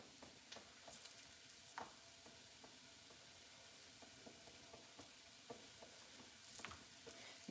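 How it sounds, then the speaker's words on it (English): Baby Bella mushrooms fry in a pan with a faint, steady sizzle, with occasional soft stirring clicks, in a home kitchen. "Can you guys hear the sizzling?"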